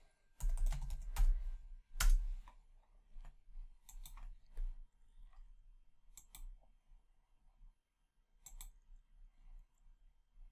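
Close computer keyboard typing, text entered into a username field: sharp key clicks in irregular clusters with pauses between them, including a few louder strikes, in an otherwise quiet room.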